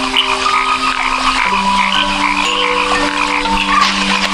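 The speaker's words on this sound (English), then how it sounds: "perfect for frogs and toads." Frogs and toads croak loudly and steadily in rain-filled monsoon puddles, several overlapping calls forming a continuous close chorus with no voices.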